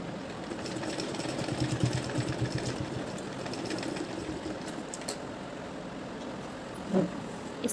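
A sewing machine runs steadily while stitching a baby girl's skirt, a continuous mechanical whir at moderate level with a brief louder bump near the end and no talk over it.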